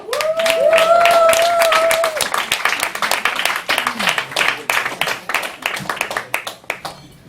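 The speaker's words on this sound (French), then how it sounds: "On s'applaudit parce qu'on est là." Scattered hand clapping from a small audience at a Montreal slam poetry night in a bar, loud at first and then thinning into sparse claps, with a voice briefly heard at the start.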